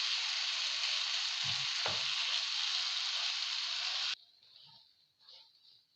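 Homemade chicken shawarma frying in a hot pan, a loud, steady sizzle with a couple of scraping knocks as the pieces are flipped, cutting off abruptly to a quiet, faint hiss near the end.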